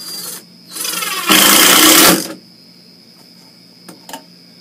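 A power driver sends screws into a mount for a 4-inch electrical junction box: close, loud whirring bursts, with a shorter run building into a stronger one-second spin, then quiet with a few faint clicks.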